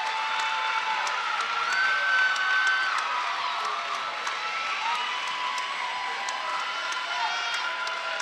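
A gymnastics meet crowd claps and cheers in steady support after a floor routine's music cuts out. The sound is a broad, continuous wash of applause and voices, heard from within the arena.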